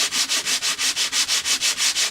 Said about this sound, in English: I just got this really rough sandpaper out here, man. I'm just going to sit here for a long time and do that.